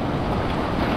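Loud, dense roar of ocean waves breaking close by, a continuous broadband wash mixed with wind buffeting the microphone, and no voices.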